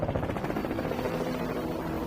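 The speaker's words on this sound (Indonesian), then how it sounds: "tiba-tiba 2 helikopter FBI datang untuk menangkap Swagger" Close, steady rotor chop from two FBI helicopters arriving, with a throbbing engine hum, loud and continuous throughout.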